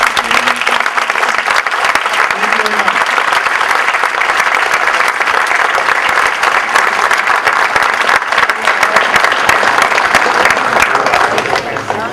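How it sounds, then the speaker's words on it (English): An audience at a hall of fame induction ceremony applauds the new inductees with loud, sustained clapping that fills the room for several seconds, and a few voices are mixed in. "if we could have a nice round of applause to the people who are now inducted"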